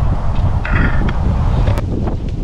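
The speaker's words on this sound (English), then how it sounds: "Wow, it is windy." Strong wind buffets the microphone outdoors, a loud, steady rumbling gust noise that fills the whole moment with no speech over it.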